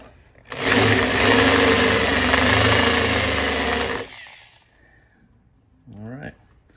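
A small power tool whines steadily for about three and a half seconds while chamfering the string holes in a double bass bridge, then stops, and a voice speaks briefly afterward.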